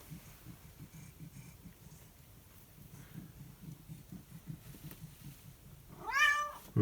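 A pet cat named Cinnabon meows once near the end, a clear rising and falling call close by, after several seconds of quiet indoor shuffling and light handling noises.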